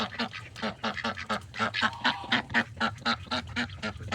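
A duck in a backyard coop quacks in a quick, steady run of loud, close nasal calls, with no talk over them.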